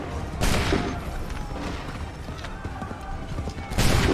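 A ragged musket volley from a line of soldiers in Assassin's Creed 3, a loud crackling burst of many shots at once, followed by scattered battlefield noise and a second volley at the end, with shouting voices mixed in.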